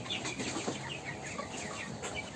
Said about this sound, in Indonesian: Ini ayam broiler.